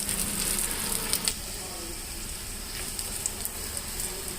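Garlic tempering in hot oil gives a steady, close hiss and crackle of frying that runs continuously, with a few brighter pops early on.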